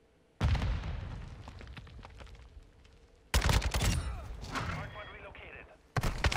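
An RPK light machine gun fires in Modern Warfare 2, sustained loud bursts of rapid automatic fire starting near the beginning, breaking off, then resuming harder with a few final shots at the end.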